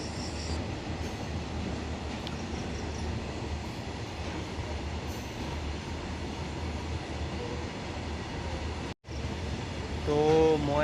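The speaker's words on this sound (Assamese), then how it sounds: "আমাৰ ঘৰৰ ওচৰেৰে ট্ৰেইন যায় তো তাকে অলপমান ট্ৰেইনখনকে দেখুৱাই দিলোঁ" A train passes near a house, a steady loud rumble and rattle of rolling wagons that continues throughout, with a brief break and a faint higher tone near the end.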